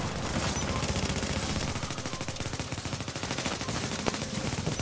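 Dense, continuous gunfire in the video game Tomato Team: Rogue Chronicles, rapid rattling automatic shots layered over several seconds, loud and steady with no pauses.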